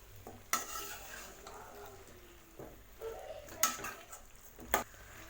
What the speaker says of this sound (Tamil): இது நல்லா மிக்ஸ் பண்ணி ஒரு நிமிஷம் நம்ம நல்லா வதக்கி விட்டுக்கலாம்